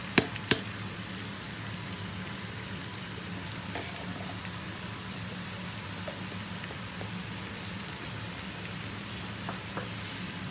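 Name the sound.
garlic ginger paste sizzling in hot oil for tarka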